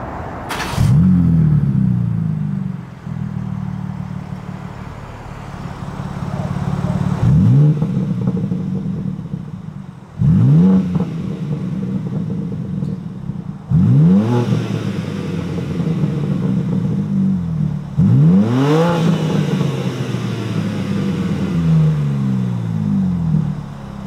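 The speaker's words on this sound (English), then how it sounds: "I think it's got a pretty decent inline six burble." A 2021 BMW M3's inline-six engine idles with a low, steady burble, rising in several short revs that swell and fall back, close and fairly loud, no talking.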